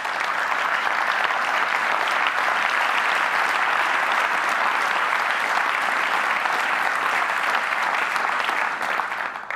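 Sustained audience applause at a TED talk, dense and steady from a large crowd throughout, loud and unbroken with only faint voices mixed in before it tapers slightly at the end.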